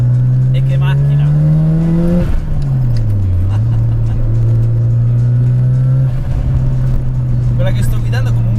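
A Mazda RX-7 with a supercharged rotary engine drives along with a steady, buzzy drone. The pitch climbs, drops sharply at a gear change, then settles and holds, close and loud, with someone talking over it.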